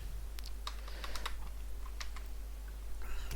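Typing program code on a computer keyboard, a steady run of close, quick key clicks with a few louder taps over a constant low hum.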